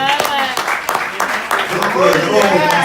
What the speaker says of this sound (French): applaudissez encore pour vous-même s'il vous plaît